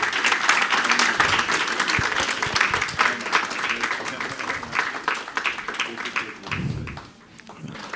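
Sustained audience applause at a sports talk event, dense steady clapping from a crowd that holds strong for about seven seconds before tapering off near the end.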